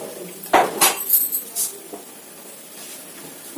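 A spoon stirs a dish in a metal pot, giving a burst of clattering clinks and scrapes over about a second, then a quieter stretch with faint rattles.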